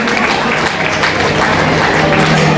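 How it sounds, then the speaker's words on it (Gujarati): At a prize distribution ceremony, an audience bursts into loud, steady applause for a student called up for an award, the clapping dense and continuous throughout. "તાળીઓથી વધાવીએ"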